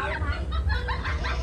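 Chickens bought to be stewed cluck and fuss close by in a home setting, a steady run of short, nasal calls layered over low rumbling background noise.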